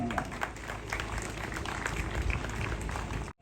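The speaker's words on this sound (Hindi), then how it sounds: "फिर से एक जोरदार तालियां" Audience applause at the final-day prize ceremony of an inter-club cricket tournament, a steady wash of many hands clapping at moderate distance for about three seconds before cutting off abruptly.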